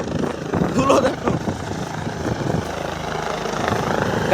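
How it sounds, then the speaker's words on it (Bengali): A helicopter lands nearby, kicking up dust, its rotor and engine making a steady broadband roar that holds at a constant level, with a brief voice near the start. "হেলিকপ্টার ল্যান্ডিং করছে, হেলিকপ্টার দেখতে পাচ্ছ।"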